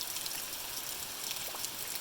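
Steady, dense hiss of heavy rain falling at night, continuous and even throughout with no voices.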